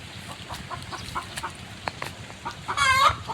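An aggressive chicken clucks in short, irregular bursts nearby in a garden with banana trees and eggplants, ending with a louder, drawn-out squawking call.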